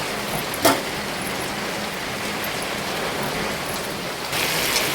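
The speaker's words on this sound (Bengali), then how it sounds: "বিশাল জোরে বৃষ্টি নেমেছে বন্ধুরা, এত জোরে নেমেছে বৃষ্টি" Heavy rain pouring down in a steady, dense hiss with a single brief knock near the start and a slight swell toward the end. No voices are heard.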